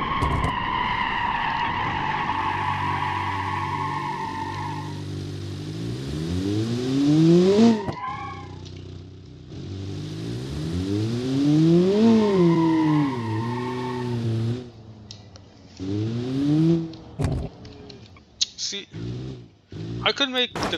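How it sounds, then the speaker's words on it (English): Restomod sports car in BeamNG, built for about 177 mph, swings through rising and falling engine pitch with tire skid and squeal as it loses grip near top speed; a voice talks over much of it. "The thing is, the car like kind of spins out."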